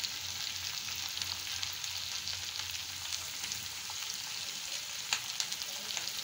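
Ivy gourd (kovakkai) sautéing in a pan, giving off a steady, even sizzle throughout, with a few sharper crackles and pops near the end and no talking.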